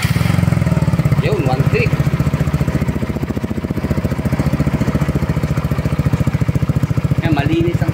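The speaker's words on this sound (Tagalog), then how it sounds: "Then mag-sound check po tayo sa muffler." A SYM Husky 150 motorcycle with its stock muffler runs close by with a steady, rapid exhaust putter that holds even throughout, while people talk briefly over it.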